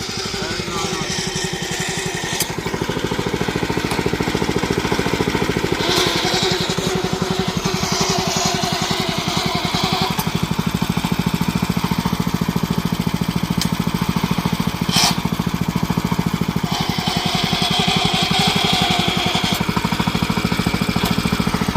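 A tiny tractor engine, billed as the world's smallest and used for farming in hilly terrain, runs loud and close with a steady rattling chug throughout, with faint background voices under the engine noise.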